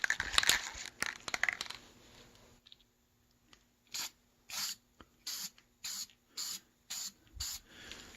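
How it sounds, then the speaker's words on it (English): Spray can laying a primer coat on a rusty wheel rim: about seven short, separate hissing bursts in a steady rhythm, close and clear, following a stretch of handling and rustling noise. "Hit it, coat of primer."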